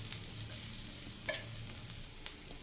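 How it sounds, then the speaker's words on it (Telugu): Cumin, ginger and garlic fry on a tawa for pulao, giving a soft, continuous sizzle with occasional light stirring clicks, quiet and close. "జీలకర్ర వేగిన తర్వాత అల్లం వెల్లుల్లి వేసుకుని వీటిని కూడా వేయించుకోవాలి బాగా."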